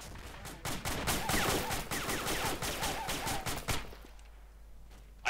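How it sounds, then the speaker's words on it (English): Dense, rapid gunfire in a tactical military shooter game, rounds hammering at a building in continuous overlapping bursts for several seconds before cutting off into quiet near the end. "Who the fuck is still shooting at this building?"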